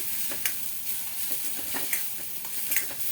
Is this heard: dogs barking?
no